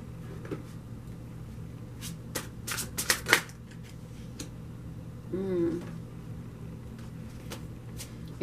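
Tarot cards are shuffled and drawn, giving soft, close riffles and papery flicks with a few sharper snaps in the middle, over a quiet hum.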